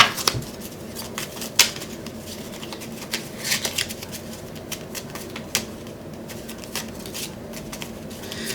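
Oracle cards are shuffled by hand, a close series of crisp riffling flutters and soft taps in uneven bursts; no voices.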